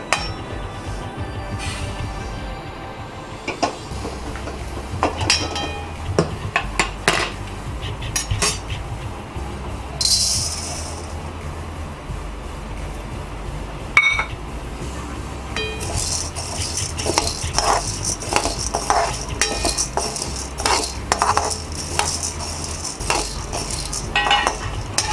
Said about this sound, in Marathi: आता मुगाची डाळ पण भाजत आलेली आहे।